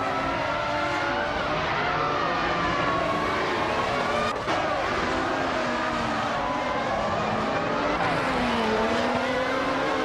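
Race cars, including a McLaren MP410, roar around a circuit in a racing video game: a loud, continuous engine whine rising and falling in pitch, with a brief dip in the middle and no talk.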